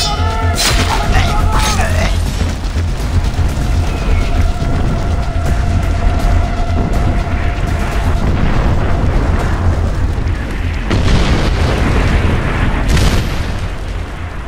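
Far Cry 4 artillery shelling fills the scene with dense, continuous rumbling booms and crashing debris, loud and close throughout, with sharper blasts near the start and toward the end.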